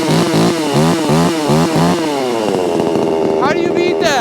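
A Soup Mix brand Amazon chainsaw runs after sitting parked overnight at -24 degrees, revving loudly in several quick surges before settling into a steady, rough idle close by.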